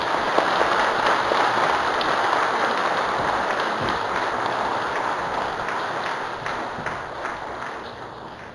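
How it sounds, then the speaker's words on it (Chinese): An audience in a church service claps steadily, a dense sustained applause that stays loud before easing off slightly at the end. "咱搁一遍用一个掌声加鼓励"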